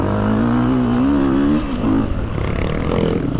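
Honda motorcycle engine at a French cross-country championship race, revving with a rising, wavering pitch for about a second and a half, then dropping into rougher, choppier engine noise, loud and close throughout.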